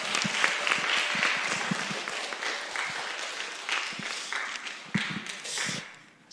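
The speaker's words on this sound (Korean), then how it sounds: "우리 이선희 강사 목사님 나오실 때 우리 큰 박수로 우리 환영해 드리겠습니다" Youth retreat congregation at Anyang Bukbu Church clapping to welcome a guest pastor, a loud sustained round of applause with scattered sharper claps and a few footsteps, tapering near the end.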